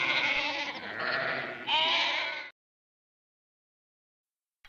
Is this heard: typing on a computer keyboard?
no